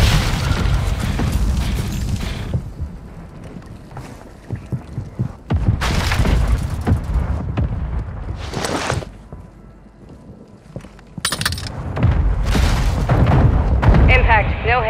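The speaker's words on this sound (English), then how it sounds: "Mortar strike inbound now." Mortar strike explosions in Call of Duty: Modern Warfare II, with deep booming impacts and rumbling blasts that rise and fall over fifteen seconds amid loud battlefield noise and radio voices.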